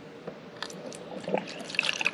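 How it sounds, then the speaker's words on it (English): Water is poured into the back reservoir of a 12 volt Road Pro coffee maker, made for use in a car or semi truck, with soft trickles and drips that grow a little louder toward the end. "I'm going to pour my water in the back"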